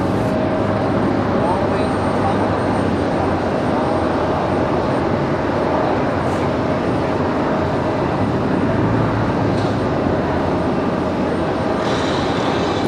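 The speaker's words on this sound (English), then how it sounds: "2361 off to Dallas Fort Worth, going to be a 737-800." An American Airlines Boeing 737-800 takes off from the runway with a loud, steady jet roar that fills the whole stretch, broad and unbroken at close range, while faint voices talk underneath.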